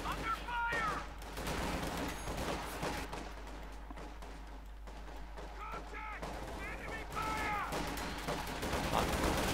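Rifle fire from Sturmpioniers in Company of Heroes 2 crackles in dense, overlapping volleys beneath a steady game soundscape, bursts rising and thinning across the stretch with a few sharper reports near the end.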